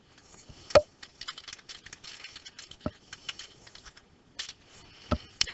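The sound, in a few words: typing on computer keyboard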